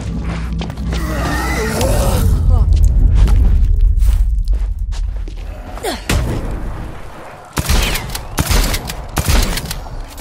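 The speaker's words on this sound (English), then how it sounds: "Explosion." Explosion and rapid gunfire in the zombie action game Dead Island 2, a loud booming blast followed by bursts of shots, sharp cracks and thuds in a chaotic, close mix.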